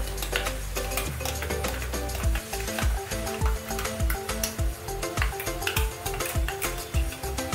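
A spice paste of white sesame, mustard, coconut and green chili sizzles loudly in a hot pan for an ash gourd curry, with a steady fry broken by rhythmic stirring scrapes, and no talking.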